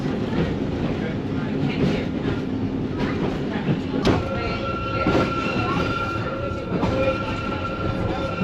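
A steam locomotive train runs in Tasmania, a rolling rumble with wheel clatter and occasional thin metallic squeals, heard from nearby with some people talking.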